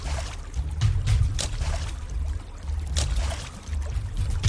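A piece of chicken is slapped repeatedly against the water from a boat on the Tárcoles river in Costa Rica to lure a crocodile, giving loud, irregular splashes and thuds over steady engine and water noise.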